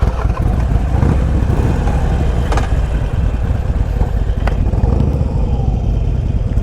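A Harley-Davidson Ultra motorcycle engine under way, a loud, steady, rumbling drone with constant low-end thrum and faint clatter, close to the mic and uninterrupted, with no talk.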